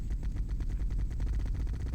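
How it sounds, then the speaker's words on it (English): A minigun fires continuously in a Halo Macworld mod, a rapid, even rattle of shots, loud and close, with no talk over it. "And we've also got a minigun here as well"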